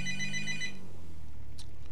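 A phone ringtone from GTA Online, played on PC, chimes in a steady repeating pattern for under a second, then stops and gives way to low background game sound.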